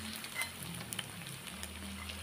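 Ulen, a sticky rice snack, frying in oil in a pan, a faint continuous sizzle with small pops and crackles, heard alone without talk.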